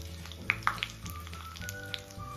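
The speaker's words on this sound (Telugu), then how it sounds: "పోపు వేగుతోందండి." Mustard seeds, fenugreek, cumin, asafoetida and chilli pieces temper in hot oil, a soft steady sizzle with a few sharp pops and crackles of seeds, close and fairly quiet, with no talking.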